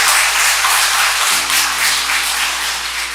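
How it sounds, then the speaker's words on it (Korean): A full Buddhist temple dharma hall audience claps together, a loud, dense round of applause close by, steady throughout with a low hum underneath that cuts out briefly partway. "모두 박수 한번 쳐주십시오"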